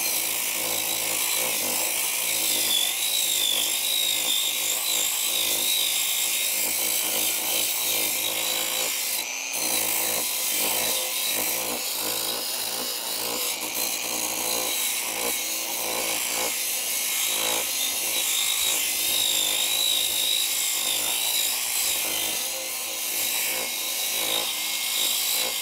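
A Bosch GWS 9-125 S angle grinder with an 80-grit flap disc sands soft pine, giving a steady, loud, close high-pitched whine with rough abrasive grinding that runs continuously throughout.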